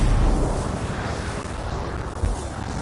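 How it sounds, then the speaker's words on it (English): Contained explosion of canisters in the video game Wrath, a loud sustained rumbling blast that stays dense and roaring throughout. "It'll be a contained explosion."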